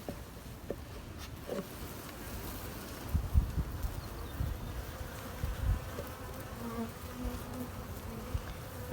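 Honeybees from a freshly installed bee package buzz in a continuous, fairly quiet drone, with soft knocks and rustling of hive parts mixed in.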